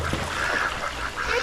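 Geese fed by visitors at a pond during a trip in Gyeongju: a flurry of nasal honks and quacks, fairly close and loud over a steady outdoor wash, with splashing water.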